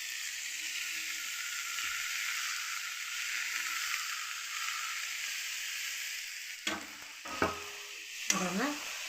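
Taro stems with onion and green chili sizzle steadily in a pan, a soft continuous frying hiss, with a few sharp scraping stirs of a utensil near the end.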